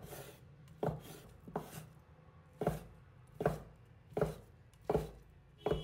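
Two fish cakes are sliced with a knife on a cutting board, producing about seven quiet, close, fairly regular chopping thuds with short pauses between cuts and no voices.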